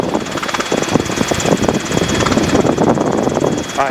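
A Robinson R22 training helicopter in flight gives a loud, constant engine drone with a fast rhythmic rotor throb, recorded from the cabin, with a faint voice-like sound near the end.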